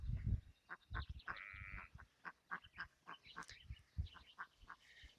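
Faint, scattered bleats from sheep on a small farm come in short bursts, mixed with a few higher bird-like calls against a quiet background.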